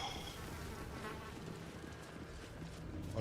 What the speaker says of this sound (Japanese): ハエの音すげえ嫌。